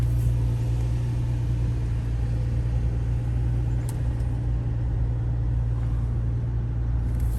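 A 2003 Nissan 350Z heard from inside the cabin while driving, a steady low engine and road rumble with constant tire noise and no talk.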